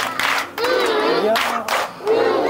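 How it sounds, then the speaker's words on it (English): A crowd in Nigeria claps and shouts for a boy, loud bursts of clapping mixed with excited voices and cheering close by. "Now give him a love clap."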